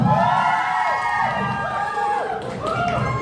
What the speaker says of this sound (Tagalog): Sino po gusto pumalakpak kay Daddy Aaron?